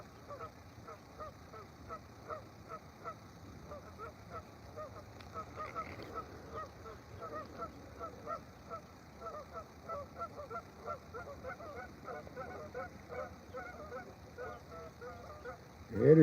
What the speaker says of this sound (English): there's geese over there are making quite the racket.